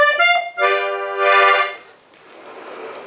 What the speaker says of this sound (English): Our two middle reeds is our musette, and that is the fourth register switch.